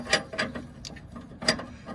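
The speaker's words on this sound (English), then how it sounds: "I'll go ahead and remove this brake line and remove this braided brake line with my flare nut wrench." Flare nut wrench clicking against the braided brake line fitting on an MGB front brake, a few sharp metallic ratchet-like clicks in two brief bursts, close and fairly quiet with no talk.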